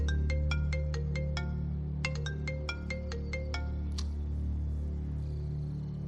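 A phone ringtone plays two rapid runs of bright electronic tones, each a quick rising-and-falling melodic pattern, then a single final chime, over a steady low background hum.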